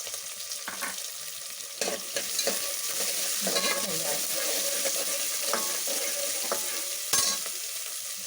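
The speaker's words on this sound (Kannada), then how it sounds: "ಒಂದು 4 ಜಜ್ಜಿದು ಬೆಳ್ಳುಳ್ಳಿ ಇದೆ, ಅದನ್ನು ಕೂಡ ನಾನು ಇದಕ್ಕೆ ಹಾಕ್ಕೊಳ್ತಾ ಇದ್ದೀನಿ" Crushed garlic sizzling and frying in hot oil for tiffin sambar, a continuous close crackle broken by sharp stirring scrapes and clinks of a spoon against the pan.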